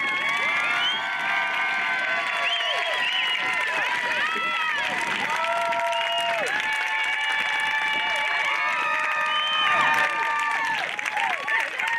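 A middle school promotion ceremony crowd claps and cheers for the graduating class, a steady wash of applause with excited whoops and shouts running continuously throughout.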